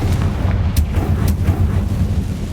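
Confringo blasting spell in Hogwarts Legacy going off as a dense, loud rumbling blast, with sharp cracks breaking through a continuous booming roar over about two seconds.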